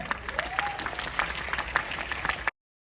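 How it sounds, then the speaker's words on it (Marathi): Audience applause at a dance competition in Navi Mumbai, a dense burst of clapping from a crowd lasting about two and a half seconds before cutting off abruptly. "तर त्या सगळ्यांसाठी पुन्हा एकदा टाळ्या."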